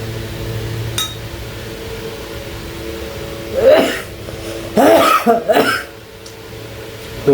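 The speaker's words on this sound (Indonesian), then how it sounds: "Tuh guys, sampai bikin gua batuk." Several close, harsh coughs, one single then a quick cluster, from someone eating hot spicy sambal with spinach and corn fritters; a light clink of tableware sounds earlier.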